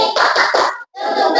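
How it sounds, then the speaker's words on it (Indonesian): A classroom group performs a rhythmic cheer clap, a quick run of sharp, loud hand claps in pulses, a short gap, then another burst of clapping. "Tepuk semangat."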